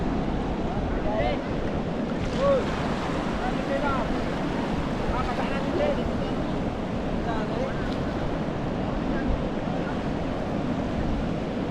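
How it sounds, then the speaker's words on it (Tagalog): Strong water current rushing during a typhoon, a steady broad wash mixed with wind buffeting the microphone, continuous and fairly loud throughout. "Ibang lakas ang agos mga idol."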